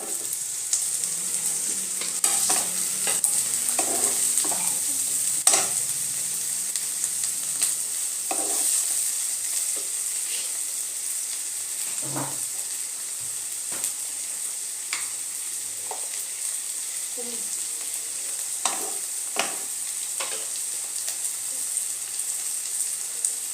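Tomato and onion frying together in a pan for tadka dal, a continuous close hissing sizzle running throughout with no voice, dotted by frequent small crackles and light stirring scrapes.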